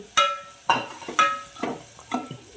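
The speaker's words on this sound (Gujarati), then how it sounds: "લીલા મરચાં ડુંગળી શેકાવા મૂકી છે" Green chillies and chopped onion hitting hot oil in a pan for Gujarati onion kadhi, giving several sharp sizzling bursts as pieces drop in and get stirred, close and fairly loud with light utensil clinks.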